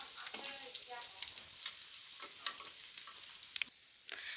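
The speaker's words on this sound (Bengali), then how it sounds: "আমি এই একই তেলের মধ্যে আলুগুলো ভেজে নিব।" Fish and potatoes fry together in the same hot oil for a Bengali drumstick curry, giving a close, continuous crackling sizzle with scattered pops and light stirring clicks, briefly dipping before resuming.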